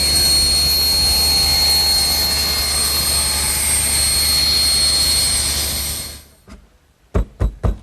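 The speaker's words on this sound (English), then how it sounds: "So I've set up my table saw to make all the bevel cuts with the blade also tilted" Table saw with its blade tilted to 5 degrees, making bevel cuts for a Shaker washstand frame: a loud, steady whining roar for about six seconds, then it cuts off, followed by a few sharp knocks.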